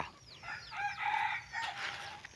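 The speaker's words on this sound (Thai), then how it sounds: "นี่ไก่ป่าครับผม" A jungle fowl rooster crows on a rice-field farm in Roi Et, Thailand: a few moderately close, ringing calls rise and fall over about two seconds against a quiet background.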